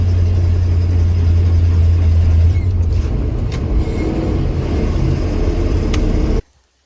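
A 454 truck towing a Duramax truck up a hill gives a loud, steady engine drone with heavy rumble that fades to near silence at the end.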